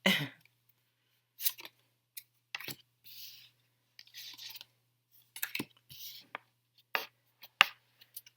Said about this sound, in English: And I shuffle really well